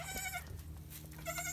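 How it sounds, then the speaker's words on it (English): A newborn goat kid, the first of the season on a homestead farm, bleats in short high cries, two calls at the start and end with a softer one between, close and clear over a low steady background hum. "He's a pretty little goat."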